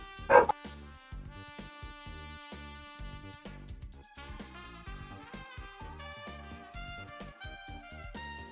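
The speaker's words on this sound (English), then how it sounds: "Dog." A dog in the Danganronpa video game barks and yips in one loud close burst at the start, followed by quieter game music and chimes playing on with no talk.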